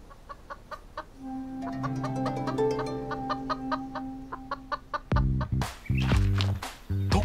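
A chicken clucking close up, a run of rhythmic clucks building into a drawn-out, higher-pitched call, followed by louder, sharper squawks near the end.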